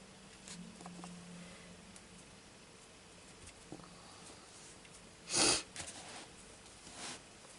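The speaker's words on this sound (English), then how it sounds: "Sorry about the sniffling" A single sharp nasal sniff from a nearby person, brief and fairly loud against a quiet room with faint rustling, while someone colours a background with watercolour pencils.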